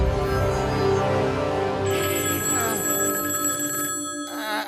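A telephone rings with a continuous bright, trilling electronic bell that stays steady and fairly loud throughout, its tone shifting partway through, with no voices over it.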